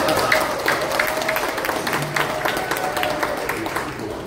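Applause from a church gathering audience, a steady dense patter of many hands filling the whole stretch at moderate level, with some voices mixed faintly underneath.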